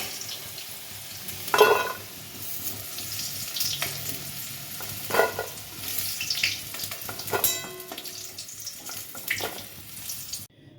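Potatoes fry in a pan with a soft continuous sizzle, broken by a few sharper clatters and scraping stirs, close and moderately loud with no talking.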